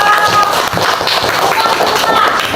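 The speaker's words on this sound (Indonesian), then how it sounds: "Tepuk tangan untuk kelompok" A classroom of pupils applauds a student group after its presentation on oviparous animals: dense, steady clapping continues throughout, loud and close, with some voices mixed in.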